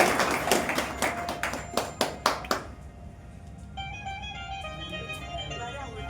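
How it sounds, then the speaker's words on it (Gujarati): A small gathering at the opening of a party office claps to welcome a guest: a short burst of distinct, fairly close handclaps that stops after a few seconds, leaving quiet music and low voices. "આપણે તાળીઓથી વધાવી લઈશું"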